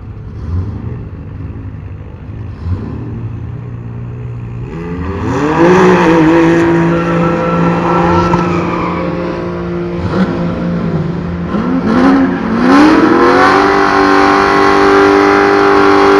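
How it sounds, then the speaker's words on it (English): A Can-Am side-by-side at drag races on national trails: a loud, close engine rises through repeated revving pulls, its pitch climbing and shifting as it accelerates, with no one talking. "This guy's got a Can-Am thing out here, a side-by-side."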